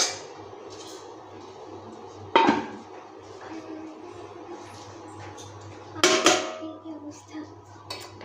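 A metal lid clatters onto a cooking pot in a home kitchen, with two sharp clanks several seconds apart over a steady low background hum.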